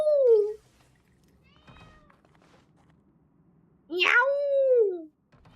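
A pet cat meows loudly nearby, one short call at the start and a longer rising-falling meow near the end, with quiet room sounds and faint movement in between.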